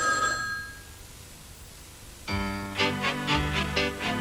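Telephone ringing in a 1980s UK TV advert for a phone and takeaway service, a bright electronic ring repeating in short pulses after a quiet start, fairly loud and close.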